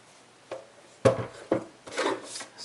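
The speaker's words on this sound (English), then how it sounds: "So I'm going to trim this down" Paper trimmer slicing cardstock for a handmade card: a few short, separate scraping cuts, then a longer rasping slide, fairly close and clear with no talking.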